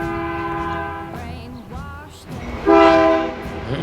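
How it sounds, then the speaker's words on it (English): A westbound freight train led by EMD locomotives rumbles past in Nokomis, Saskatchewan, with steady horn blasts, the horn rising louder near the end as the train draws close, wheels clattering underneath. "here comes another train"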